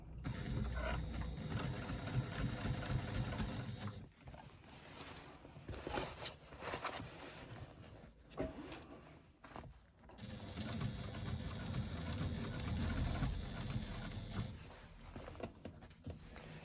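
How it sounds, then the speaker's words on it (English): A sewing machine stitches a bag's lining to its exterior in two long steady runs of fast, even whirring, pausing briefly in between with faint handling noises, close and moderately quiet. "I'm kind of sewing inside of the bag almost"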